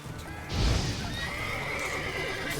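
In The Witcher 3, a horse gives a strong, close whinny over a steady bed of game noise and hoofbeats.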